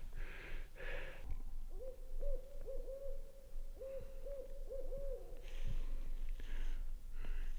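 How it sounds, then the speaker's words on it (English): An owl hoots at night in a cold winter forest during a mule deer hunt, a steady run of repeated low hoots in a rhythmic series, moderately close and clear over faint background noise. "We got the owl out tonight."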